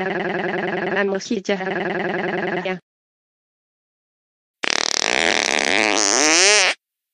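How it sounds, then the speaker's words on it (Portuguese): A hippopotamus lets out a loud fart in two long, buzzing, blaring bursts separated by a few seconds of silence; the second burst is raspier and wavers in pitch. "Soltar um peidão que vai me jogar no espaço?"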